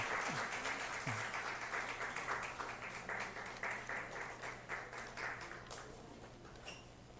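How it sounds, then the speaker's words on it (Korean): Church congregation applauding after a closing prayer, a steady wash of hand claps spread across the whole stretch at moderate level, thinning slightly toward the end. "큰 박수로 우리 감사하겠습니다."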